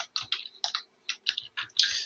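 Fingers type on a computer keyboard in short bursts of crisp, close keystroke clicks separated by brief pauses, fairly quiet and with no voice.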